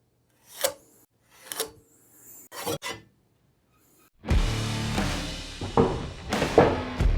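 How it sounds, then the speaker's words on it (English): A pencil scribes along a square on wood in a few short, separate scratching strokes, followed by a louder stretch of rubbing, shuffling and clunks as the wood and square are handled up close. "put my square right there, and then connect to that 1 inch mark we just made. And scribe that line."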